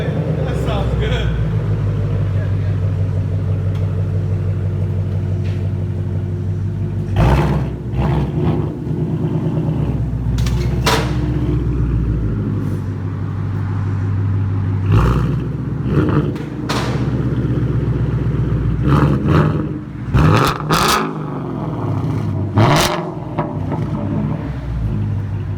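A 2019 Ford Mustang GT with a 5.0 Coyote V8 on straight pipes idles with a deep, steady rumble, broken by several sharp revs that climb and fall back, while people talk nearby.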